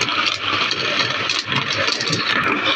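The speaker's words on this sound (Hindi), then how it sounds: "जग में डाल दिया है मैंने इसे ग्राइंड करने के लिए।" A kitchen mixer grinder jug grinds tamarind chutney with a loud, continuous motor whine and rattling blades, running steadily throughout with no pauses and no talking.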